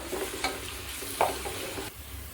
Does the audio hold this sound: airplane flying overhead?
no